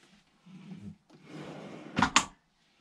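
Drawer in the kitchen of a Mac Louis MC4 33 Diamond motorhome pulled open: a soft sliding rumble followed by two sharp, close clacks as it reaches its stop, then quiet.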